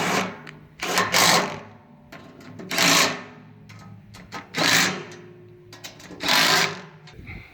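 Feed grinder chewing through spring wheat and peas, a mechanical rattling clatter that surges in repeated bursts about every second or two, with quieter hum between.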